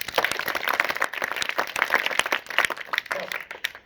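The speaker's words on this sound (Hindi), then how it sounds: "वेरी गुड, ताली बजाओ।" A group of people in a classroom claps hands together, producing a dense, fairly loud patter of overlapping claps that keeps going throughout without talk.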